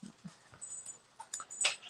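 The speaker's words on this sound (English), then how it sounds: "Sorry if you can hear my dogs." Dogs in a home craft room whimper and yap in short, scattered bursts, fairly close, including a few sharp high squeaks toward the end.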